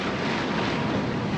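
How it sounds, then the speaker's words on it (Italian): Wind blows hard over a sailing boat leaving Trapani under a scirocco, a loud, steady broadband roar of gusting air and microphone buffeting with no voices. "Già il vento soffia e per oggi dovrebbe esserci un po' di scirocco"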